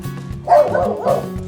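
A Labrador dog at a farm theme park in Palakkad lets out a couple of close, loud barks that run into each other, with a whiny, yelping edge.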